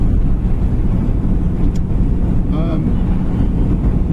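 Continuous low engine and road rumble from a Vauxhall Royale driving on a country road, with wind buffeting the microphone and a brief faint chirp partway through.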